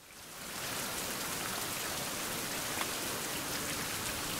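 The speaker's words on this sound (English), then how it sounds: "Let me sit here until the rain goes away." Rain falls steadily in a survival video game, a soft continuous hiss of drops that fades in quickly and then holds an even patter with no voices.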